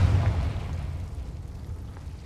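A Confringo spell in Hogwarts Legacy erupts in a fiery explosion, a loud low boom at the start that fades into a crackling, rumbling tail.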